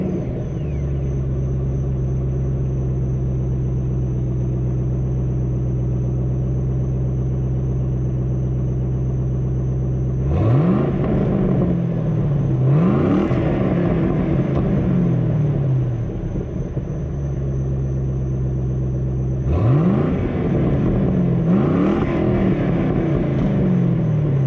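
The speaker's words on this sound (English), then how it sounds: "Stock exhaust, I must say that's not too shabby." A 2008 Mustang GT with stock exhaust gives a deep, steady engine rumble idling close by, then rises twice in brief revving bursts that fall away, repeating later with two more revs.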